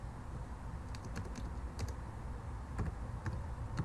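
Soft, quiet clicking of a computer keyboard being typed on, irregular keystrokes in small clusters with no talking.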